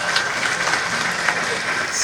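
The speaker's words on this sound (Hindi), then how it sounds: "जोरदार तालियां बजाओ।" An audience claps in a municipal council hall in Indore, a dense, steady patter of many hands at close-to-moderate distance, continuous for a couple of seconds with a slight murmur underneath.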